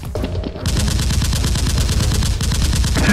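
Continuous automatic gunfire from guns in a staged Nerf war fight, a steady rapid rattle of evenly spaced shots, loud and close, running unbroken throughout with no talking.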